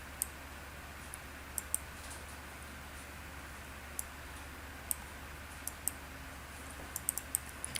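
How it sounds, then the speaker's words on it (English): Sparse computer mouse clicks at a desk, with single sharp ticks spread irregularly over a quiet room hum and a quick flurry near the end. "I'm going to click and drag my text boxes over my page."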